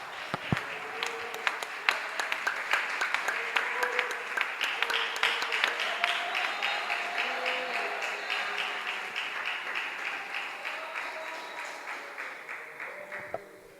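A church congregation claps hands together in a fast, steady rhythm, loud and sustained with accompanying voices singing or calling along, gradually easing toward the end.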